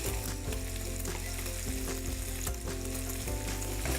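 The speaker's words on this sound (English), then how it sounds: "I'm gonna cook that garlic a little bit." Minced garlic cooks over medium heat in a pan for fried rice. Steady sizzling fills the whole clip, with small stirring knocks breaking through from time to time, close and fairly loud, and no one speaks.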